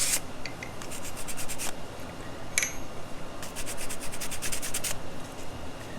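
Sandpaper rubbing the inside of a soldered jewelry ring to remove flashing, a soft steady rasp with quick bursts of scratchy strokes, close and fairly quiet.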